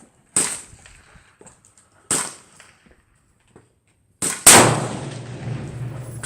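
Rifle shots from reloaded 6.5 Creedmoor rounds at a range: three sharp, loud cracks spaced about two seconds apart, the last followed by a lingering rumble and echo.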